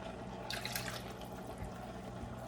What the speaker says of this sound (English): I think I am going to throw in another 1/2 cup of water.